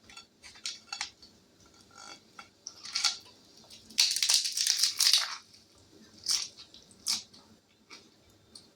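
Close, wet crunching and squishing from someone biting into and chewing a homemade taco, in irregular bursts with one louder crunchy stretch in the middle and pauses between chews.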